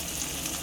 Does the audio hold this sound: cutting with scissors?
no